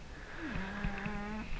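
A dog snores and grunts softly indoors, one low drawn-out breath that rises into a nasal grunt, faint and close, with no one talking.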